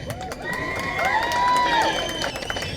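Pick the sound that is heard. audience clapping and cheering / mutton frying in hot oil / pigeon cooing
audience clapping and cheering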